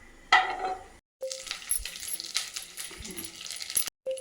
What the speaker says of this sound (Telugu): ఒక కడాయి పెట్టుకొని 2-3 స్పూన్లు ఇచ్చేసుకొని మనము ఆవాలు వేసుకొని వేసేయాల